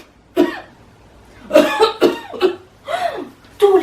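A man coughs repeatedly at close range, a series of six or so harsh, separate hacks spaced unevenly with short pauses between them.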